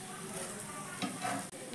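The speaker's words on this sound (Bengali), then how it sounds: "উল্টে পাল্টে কিন্তু আমি পরোটাগুলো ভেজে নিচ্ছি একটু লাল লাল করে" An egg paratha fries in a pan, turned now and then, with a steady close sizzle and a couple of brief scraping touches.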